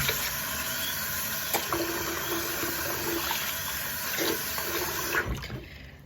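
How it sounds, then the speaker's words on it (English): Tap water runs steadily into a sink while hands are rinsed under it, a continuous close splashing flow that carries on for several seconds before cutting off near the end. "So now we're gonna rinse our hands."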